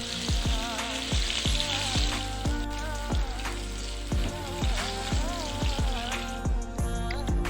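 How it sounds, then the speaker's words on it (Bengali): Soya chaps fry in oil over a medium flame for a vegetable biryani, with a constant sizzle and repeated sharp pops and spatters, close and alone. "সোয়া চাপগুলিকে মিডিয়াম ফ্লেমে এইভাবে 3 মিনিট ফ্রাই করে নেবেন"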